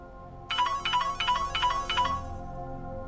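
A mobile phone ringtone plays for an incoming call, five short repeated melodic bursts in a steady rhythm, fairly loud and near, then stops, leaving a quiet room.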